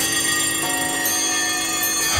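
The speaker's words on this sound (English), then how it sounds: "All those dreaded bells." Alarm clock bells ringing, a loud continuous metallic jangle that stays steady and close throughout.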